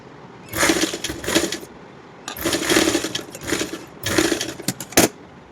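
Sewing machine stitching fabric for a small girl's umbrella-cut top, running in short bursts of rapid whirring, stopping and restarting several times, close and fairly loud with no speech.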